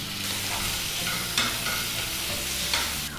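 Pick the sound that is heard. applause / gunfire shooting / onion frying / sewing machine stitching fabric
onion frying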